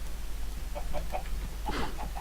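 Chickens clucking in the Minecraft video game, a few short soft clucks followed by a brighter cluster of calls over a low steady hum.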